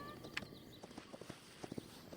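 Horse hooves clip-clopping at a walking pace while riding in the video game Hytale, a quiet string of evenly spaced soft knocks, with a few brief higher clicks early on.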